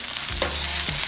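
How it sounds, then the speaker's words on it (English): Wahoo fish pieces sizzle and are stirred in a hot non-stick pan, a close, bright frying hiss broken by a couple of quick scraping stirs. "Anytime you're stir frying fish, like Brick did one the other day,"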